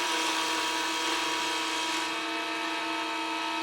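A wood lathe spins a key chain blank while an Easy Wood carbide tool cuts it, giving a steady, loud, continuous whirring hiss with a faint tonal hum that eases slightly partway through.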